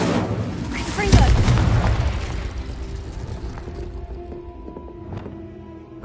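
Confringo fire spell blast in Hogwarts Legacy, a heavy booming explosion that rumbles and slowly fades, mixed with other spell effects and scattered clinks in the game's soundscape.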